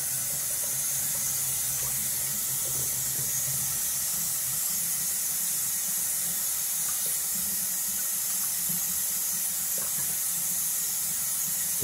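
Tap water runs steadily into a sink for a cold rinse during a wet shave, a continuous hissing flow heard close and alone without speech.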